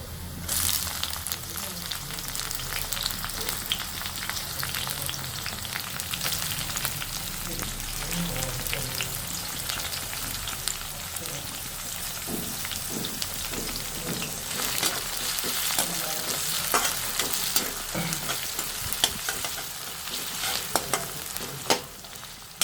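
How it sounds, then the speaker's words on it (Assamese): Finely chopped onions frying in a pan for Assamese-style pork dry fry, with a steady, loud sizzle and repeated stirring scrapes throughout and a voice faintly in the background. "এতিয়া আমি ইয়াত দিম পিঁয়াজ সৰু সৰুকৈ কটাখিনি দিম"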